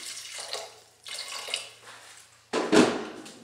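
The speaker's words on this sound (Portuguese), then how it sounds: "Aí eu vou colocar água aqui na panela até cobrir esse peito de frango" Water runs from a tap into a cooking pan in three separate bursts, filling it to cover chicken breast, the last pour louder and splashier; the kitchen is otherwise quiet.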